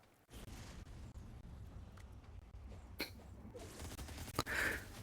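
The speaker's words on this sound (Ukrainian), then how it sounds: "Хто там валить, щось я нічого не поняв, де і хто стріляє" Gunfire in the Fortnite Mobile video game, a few sharp distant shots over a steady low game background hum, with isolated cracks spaced irregularly and no talking.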